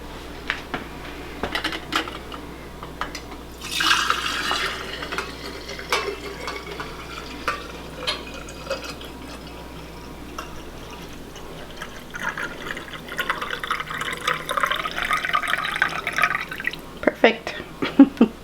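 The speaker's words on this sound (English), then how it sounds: "I'm going to put my broth in." Beef heart stew broth is poured into a quart canning jar, splashing and trickling in bursts among clinks of jars and utensils on a kitchen counter, with a person talking intermittently.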